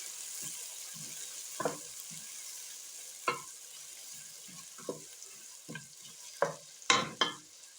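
Chopped onions hit hot oil in a pan while kale is being cooked, giving a steady sizzling hiss with repeated stirring scrapes and clatters, close and fairly quiet, with no voices.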